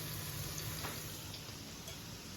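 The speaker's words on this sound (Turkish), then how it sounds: "Patates kızartıyoruz" Steady sizzling of potatoes frying in hot oil, a continuous crackling hiss with no voices.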